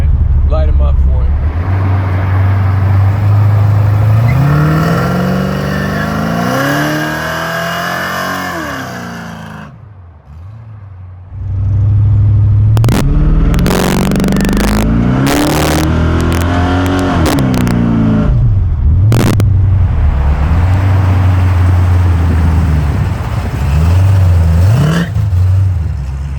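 A Chevrolet El Camino engine revs up in loud, rising bursts in a garage, with rattly broadband roar and people talking before and after the runs.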